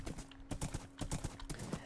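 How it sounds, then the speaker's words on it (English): Steady clip-clop of a horse's hooves in a survival video game, rhythmic and evenly paced at a trot, close but fairly quiet with no talking over it. "We'll take the horse so it's a bit faster."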